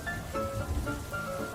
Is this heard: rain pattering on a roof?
yes